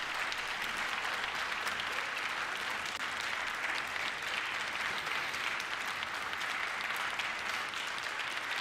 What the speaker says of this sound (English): The Democrats are applauding sending money to Ukraine.